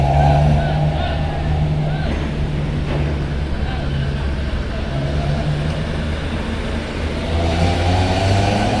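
Vehicles boarding the KMP Windokarsa ferry at Bakauheni port, engines idling and rumbling steadily at moderate distance amid crowd babble and harbor noise throughout.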